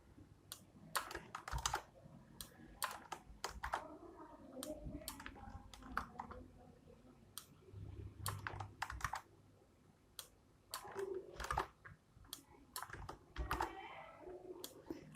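Fingers type on a computer keyboard in quiet, uneven bursts of crisp clicking keystrokes, with short pauses between runs and no talking.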